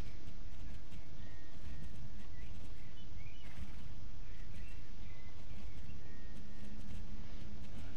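Continuous rhythmic hoofbeats of a horse at a collected gallop on a riding course in Star Stable Online, over a dense, steady background with faint chirps, no talking.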